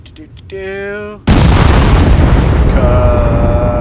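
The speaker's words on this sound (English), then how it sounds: "Watch our bomb drop in on top of this APC" A bomb detonates on an APC in the DCS combat flight simulator: a sudden loud, close blast after a brief harmonic tone, followed by a sustained rumbling roar that lingers to the end.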